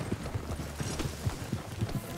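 Horse hooves clip-clop at a steady, close, moderately loud walking rhythm while riding through a town in daylight in the Western role-play game RedM.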